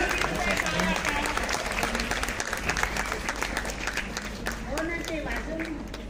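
A conference audience at a national environment meeting applauds steadily, dense continuous clapping filling the hall for the whole stretch, with some murmured voices underneath.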